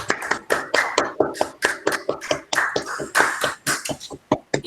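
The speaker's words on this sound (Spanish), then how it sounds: "finalizar dándole un aplauso a la ponente, a la profesora Roca Barea" An audience applauding a lecturer after her talk: a dense, close burst of many hands clapping in a rapid, steady patter that gradually thins out toward the end.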